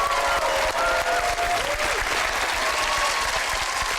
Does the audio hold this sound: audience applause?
yes